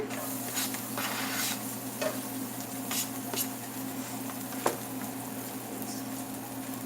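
Garlic sizzling in olive oil in a pan, a steady close crackle with brief scrapes and taps from stirring and one sharper click near the end, and no voices.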